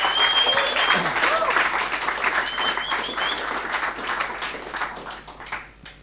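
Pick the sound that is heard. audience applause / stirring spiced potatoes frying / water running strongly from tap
audience applause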